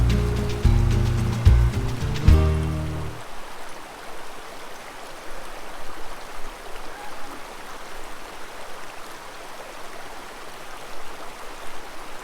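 A small river near a Buena Vista, Colorado hiking trail flows with a steady broadband rush, continuing alone after a few seconds of louder clattering and knocks at the start.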